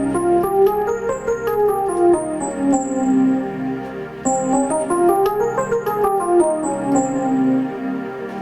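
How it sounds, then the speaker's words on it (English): A scale in the dark-sounding Phrygian minor mode plays as a melodic line of stepping notes with a bright lead over sustained lower tones, rising and falling twice in a smooth, steady phrase without any talking. "which is Phrygian,"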